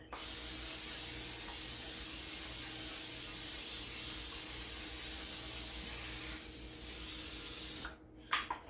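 A long, steady hiss of cooking spray onto a nonstick pan runs for several seconds without a break, then cuts off, followed by a couple of faint clicks.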